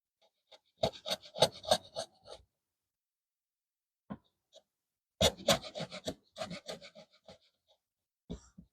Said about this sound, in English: So let me clean that edge up just a little bit with a chisel.